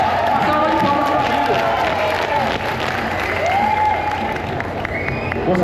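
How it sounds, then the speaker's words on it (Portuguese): Audience at a national cultural committees meeting applauds Abílio on his arrival, steady dense clapping with some cheering throughout, a crowd filling the hall. "Uma salva de palmas para"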